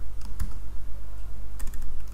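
Rapid keystrokes on a computer keyboard while Python code is typed, close and clear, in short uneven bursts with brief pauses between, no voices.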